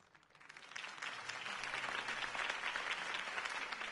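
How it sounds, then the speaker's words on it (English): Applause from a crowd in a video game swells from a light patter into a steady, full round of clapping that carries on to the end. "could have heard that applause"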